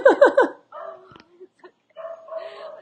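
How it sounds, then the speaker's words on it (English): A dog barks several times in quick bursts near the microphone, followed by softer yips and whimpering sounds with short pauses between them. "It's not even my dog."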